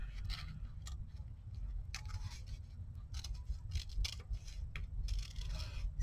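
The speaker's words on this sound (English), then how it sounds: "I've got my mask, and I'm going to cut my mask out" Scissors snip out a paper stencil mask for a notebook planner page, a series of quick, faint, close crisp cuts with irregular rhythm over a low background hum.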